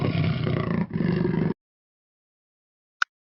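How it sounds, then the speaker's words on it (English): A jaguar gives a rough, rumbling roar in two close, loud bursts lasting about a second and a half, then silence and a faint click. "J is for jaguar."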